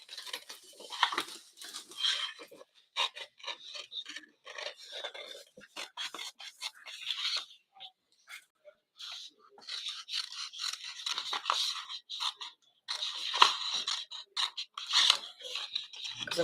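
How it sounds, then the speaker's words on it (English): Scissors cut by hand around stamped cardstock, making a long run of close, crisp snips and paper crunches in irregular bursts with short pauses between. "So what I'm going to do is I'm just going to randomly cut in here"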